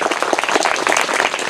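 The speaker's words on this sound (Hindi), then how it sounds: "तो इनके लिए एक बार और जोरदार ताली हो जाए।" Loud, dense applause from an audience cheering a quiz winner at a school event, steady clapping filling the whole moment without pause.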